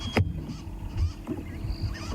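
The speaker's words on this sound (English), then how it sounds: "You can hear a squirrel alarm calling" A squirrel gives a series of sharp, honking alarm calls at irregular intervals, repeated about five times, fairly near and loud against a quiet outdoor safari background.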